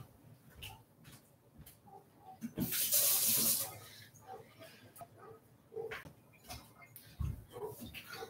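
Running water from a sink tap rinses a spoon for about a second in a quiet home, a brief hissing gush surrounded by scattered clicks, knocks and handling sounds.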